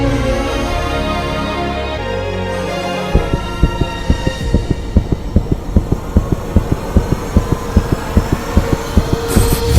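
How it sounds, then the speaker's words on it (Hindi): A rapid, machine-like heartbeat pounds in fast, even thumps after a low droning opening, growing steady and loud over several seconds. "ये किसी इंसान के दिल की धड़कन नहीं है, मानो कि जैसे किसी मशीन से ऑपरेट हो रहा है।"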